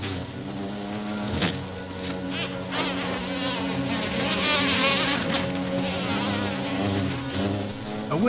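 Several male bees fighting over a female buzz continuously at close range, their droning wings rising and falling in pitch with no voices present.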